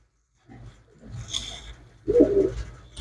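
Domestic pigeons coo softly and close by in a quiet setting, with a low, rounded throaty call rising near the end over faint rustling.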